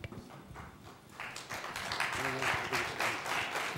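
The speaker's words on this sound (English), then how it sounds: "Are they applauding you coming up to the mic?" Applause from a crowd swells after the first second into steady dense clapping, with a voice briefly rising over it.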